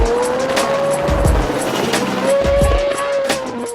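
A drifting car on a wet track at a filmed drift session, tyres squealing in sustained pitched wails over engine roar, with two surges of louder rumble as it slides close by.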